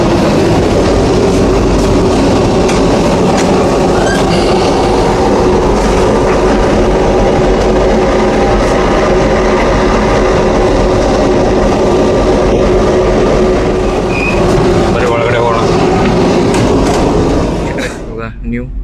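A Vande Bharat sleeper train on the Kamakhya–Howrah route rolls into New Cooch Behar station, a loud continuous rumble and rattle heard from inside the coach, easing off near the end.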